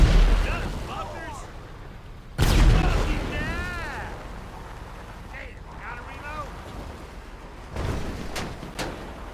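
A tank cannon in GTA 5 Online fires one loud boom that rolls into a rumbling explosion, with a second, fainter blast later, while someone talks over the low rumble between shots.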